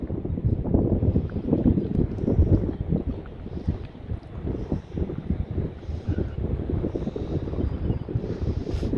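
Steady gusty wind buffets the microphone with low rumbling in Bunbury, Western Australia, continuous for several seconds with no voices.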